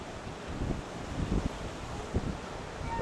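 A strong wind blows on a stormy day at the shore in Paamul, a steady roar buffeting the microphone with occasional low gusts and thumps.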